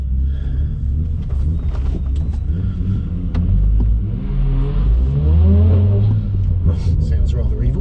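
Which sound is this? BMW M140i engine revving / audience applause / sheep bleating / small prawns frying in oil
BMW M140i engine revving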